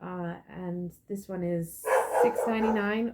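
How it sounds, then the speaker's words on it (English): A dog barks and yips briefly in the background of a home room while someone talks over it, the barking faint and partly masked by her voice. "sorry for the dog barking in the background"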